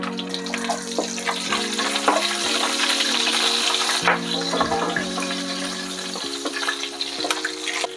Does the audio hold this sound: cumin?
yes